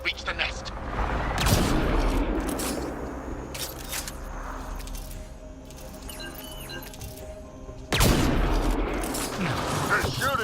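Enemy gunfire in Mass Effect Andromeda on a combat mission: dense, crackling bursts of shooting with sharp impacts come and go, with a heavy volley near the end, mixed under voices shouting.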